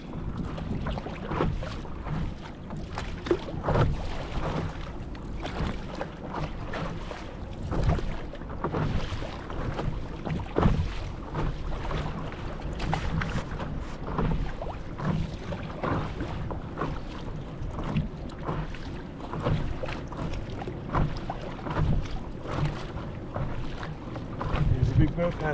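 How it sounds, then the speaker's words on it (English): A big boat motors past paddle boarders out on Yellowstone Lake, a low, steady drone carried under gusting wind buffeting the microphone, with people talking intermittently nearby. "Big boat passing us by."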